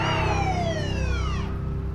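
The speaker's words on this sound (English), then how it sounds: "full sirens, time to go." An ambulance siren at full volume wails in a single loud, falling sweep over low engine rumble.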